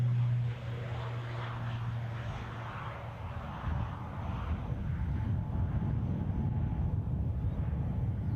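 A turboprop airliner at Edinburgh Airport gives a steady, moderately loud engine drone that grows slightly fuller over several seconds, with a low propeller hum at the start and no voices.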